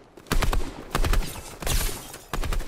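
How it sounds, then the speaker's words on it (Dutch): Bursts of rapid gunfire from a game crack out in four separate volleys, loud and close, with short quiet gaps between them. "ik hoor overal schoten"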